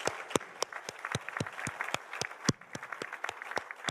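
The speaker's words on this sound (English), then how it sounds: "Please join me in giving a huge round of applause to our panelists." Audience applause for panelists at a tourism ministerial roundtable, steady moderate clapping with sharp individual claps standing out, heard at some distance in a large room.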